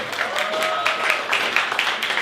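Audience applause at a live NPR parody comedy show, a steady wash of clapping from a seated crowd, moderately loud and even for a couple of seconds with no talking.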